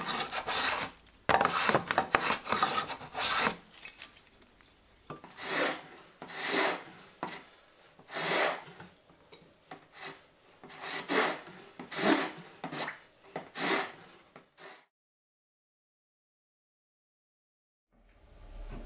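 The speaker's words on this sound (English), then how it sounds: "Here I'm using a block plane to get to the final line." A block plane shaves wood for a guitar being built one-handed, giving a series of rasping strokes in bursts with short pauses, close and fairly loud, then falling silent near the end.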